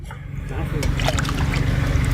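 Water running and trickling while aloe vera leaves are washed by hand, a steady close splash and dribble that continues throughout with some background voices.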